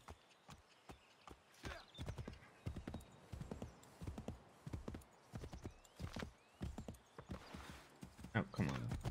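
Horse hooves clip-clop in Assassin's Creed III, sharp irregular hoofbeats close by and moderately loud, mixed with occasional talk.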